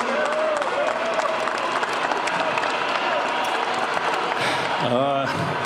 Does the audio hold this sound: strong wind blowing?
no